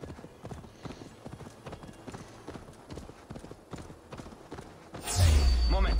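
Horse hooves while riding in Assassin's Creed Valhalla: a steady, rhythmic clip-clop of galloping hooves, close and moderate in volume, ending in a sudden louder burst of sound.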